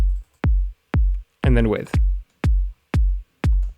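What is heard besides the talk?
house kick drum from Kick 2 plugin, without and with layered sample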